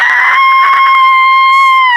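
In a Hindi haunted-mansion horror story, a woman gives a loud, sustained, high-pitched scream of fright lasting about two seconds, close and piercing, tapering slightly at the end.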